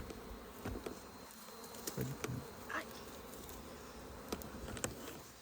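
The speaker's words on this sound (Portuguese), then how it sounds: "Nesse momento vocês podem ver que até a movimentação das abelhas" Bees swarm and buzz around a colony nesting in a tree trunk, a steady dense hum with individual insects whizzing close past now and then, no one talking.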